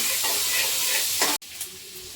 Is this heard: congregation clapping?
no